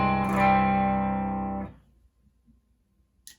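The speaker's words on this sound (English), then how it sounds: "Beautiful sparkly clean tone." A clean electric guitar chord with a sparkly tone rings out sustained and steady, played through an amp's clean channel with the drive set about a quarter of the way up, then cuts off into near silence with faint handling clicks.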